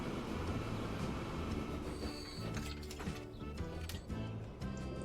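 A train runs in the Transport Fever 2 game, giving a steady rumble of rolling wagons with metallic squeals and clanks over it, moderately loud and continuous, with no voice.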